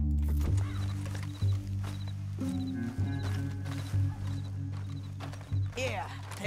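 Horse hooves clip-clop in Red Dead Redemption 2 in a loose, uneven rhythm of muffled thuds over a deep, droning game backdrop.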